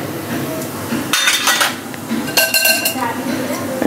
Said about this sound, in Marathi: ड्रायफ्रूट चांगलं हलवून घ्यायचं